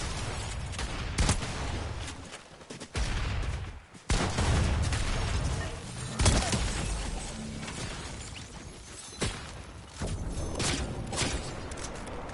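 Fortnite gunfire in a hectic fight right after landing, with a shotgun in use: repeated sharp, loud shots and bursts at irregular intervals, separated by brief lulls, over a noisy game background.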